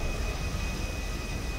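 A video-game airplane engine on a runway gives a steady, loud, broadband roar that drones without a break throughout.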